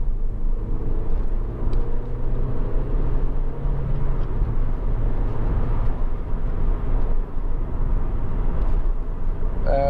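Steady low engine rumble of a Honda Civic 1.8 i-VTEC hatchback on the move, continuous and fairly loud, with road noise and no talking.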